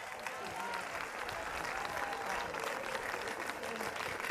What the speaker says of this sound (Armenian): Բարձր ծափանենք,